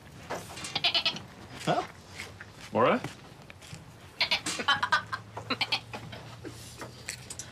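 A person imitates a goat's bleat with a few short, wavering vocal bleats amid Norwegian conversation, with other voices talking around the imitation.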